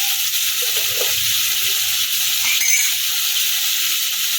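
Tomato, green chili and ginger paste sautéing in a pan, a steady loud sizzle running throughout with a brief stirring scrape near the middle, no voices.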